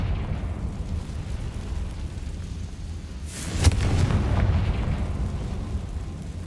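A Confringo fire spell goes off in Hogwarts Legacy as a single sharp burst, a bright crack followed by a brief roaring swell over steady low game ambience.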